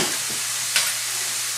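Ground meat with garlic cooks in a pan for a cabbage roll casserole, a close, steady sizzle with a short scrape of stirring near the middle.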